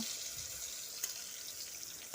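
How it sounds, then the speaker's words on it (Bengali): Eggplant slices fry in hot oil in a pan, giving a steady, close sizzle with a faint crackle throughout and no voices. "বেগুনগুলো আমি খুব ভালো করে ভেজে নেব"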